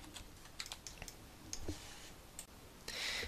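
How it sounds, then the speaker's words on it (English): Rapid mouse and keyboard clicks at a computer running 3ds Max, a quiet run of sharp, irregular taps spaced through the stretch, close up with no voices. "I'm going to click OK and click off of Effect Pivot Only"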